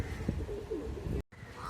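Karna pura pigeons cooing low and soft near scattered feed, a steady murmur of overlapping coos with a brief dropout near the end.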